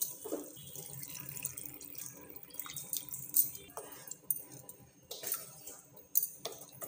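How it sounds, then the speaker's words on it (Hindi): Water is poured from a vessel into a pan of simmering dahi aloo, a short splashing trickle followed by scattered drips, clinks and kitchen clatter, close by and moderately quiet. "इथरे आमे आउ टिके एक्स्ट्रा पानी देकरी आउ 2 मिनिट फुटे देमा।"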